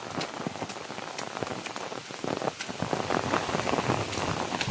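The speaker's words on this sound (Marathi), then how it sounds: "खूप जोरदार पाऊस लागतोय आणि पाऊस आहे तो आहेच, पावसाबरोबर जो वारा सुटलेला आहे तो अगदी खतरनाक आहे" Heavy Konkan monsoon rain pours down hard with strong gusting wind, a dense steady downpour with scattered louder drop impacts and no voices.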